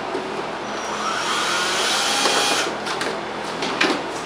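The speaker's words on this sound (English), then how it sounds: "we're going to show you the Healthway Air Deodorizer" A Healthway Air Deodorizer ozone generator runs steadily with a broad, even hum and hiss that holds for several seconds, with a few faint clicks near the end and no talking.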